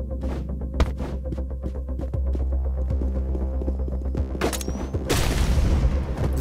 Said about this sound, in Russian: Взрывчатка.